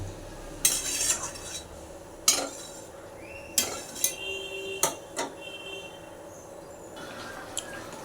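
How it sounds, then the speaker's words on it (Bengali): Chicken simmering in tea liquor in a pot on low gas, stirred from the bottom with a spoon; faint bubbling under sparse metallic scrapes and clinks against the pot, quiet and close. "মাংসের ঢাকনাটা খুলে আবার তলা থেকে একটু নেড়ে দিলাম যাতে তলে লেগে না যায়"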